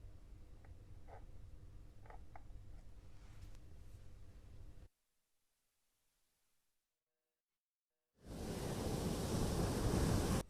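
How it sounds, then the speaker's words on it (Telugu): Rough sea surf and gusting wind on the Bay of Bengal coast during a cyclone: a steady, dense roar that drops out to near silence for a few seconds, then returns louder and fuller. "సముద్ర వాతావరణం అల్లకల్లోలంగా ఉంది"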